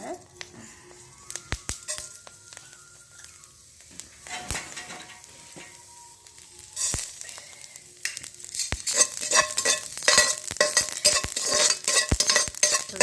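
Fenugreek and mustard seeds dry-roasting in a pan, quiet at first with sharp scattered clicks, then denser crackling, popping and spoon scrapes toward the end, close up.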